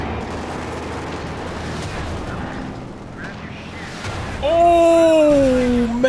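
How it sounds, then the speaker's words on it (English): Machine gun fire in the real-time strategy game Company of Heroes 2 rattles in a dense, continuous stream over battlefield rumble, and a rising tonal effect enters near the end while a commentator talks over it. "And finds this machine gun trying to capture the fuel point."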